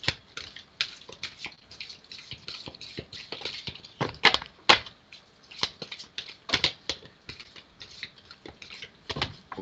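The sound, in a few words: shuffling tarot cards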